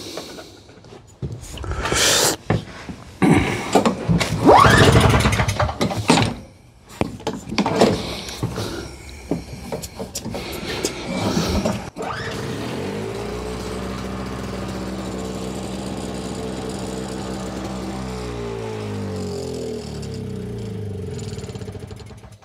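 A snowblower engine pull-started with the choke on: a few rough rattling pulls and sputters, then it catches and settles into a loud, steady, close idle that runs on without a break.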